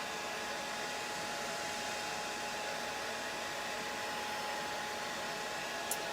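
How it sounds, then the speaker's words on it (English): A hair dryer on its cool setting, held high above alcohol ink artwork, blows a steady, even rush of air that holds unchanged from start to finish with no voices. "Cold air, cool air. I'm drying it from high up."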